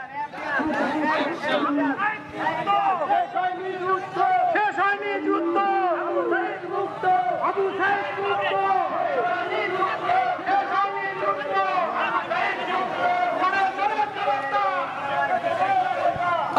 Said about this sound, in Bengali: তারা বিভিন্ন ধরনের স্লোগান দিয়ে এই পদযাত্রাটি করছে।